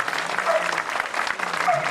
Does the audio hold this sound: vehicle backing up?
no